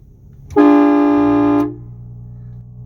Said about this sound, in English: this is me sitting inside the truck and blowing the horn